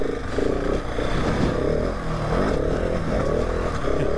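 A 2019 KTM 690 Enduro R running continuously on an off-road ride, its engine droning steadily with shifting pitch, mixed with wind and bump noise.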